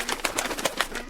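A cartoon origami bird coos in a rapid series of soft, evenly spaced pulses, about seven in just over a second, with no talk over them.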